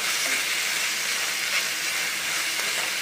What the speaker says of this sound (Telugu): పచ్చివాసన పోయేలాగా 1-2 నిమిషాలు ఇలా కలుపుతూ ఫ్రై చేసుకోవాలి